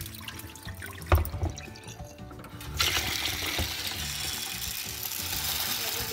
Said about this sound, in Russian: Сейчас промоем ее хорошенечко и поставим варить.